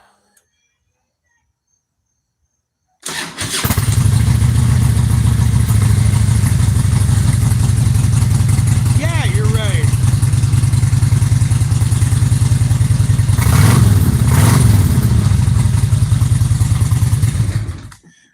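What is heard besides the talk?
Kawasaki Ninja 250R motorcycle engine starting and revving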